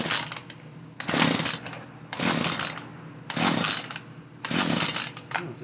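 Poulan Pro PP4018 chainsaw being pull-started, four loud rasping surges of the recoil starter cranking the engine at a steady rhythm close to the microphone, with no talking.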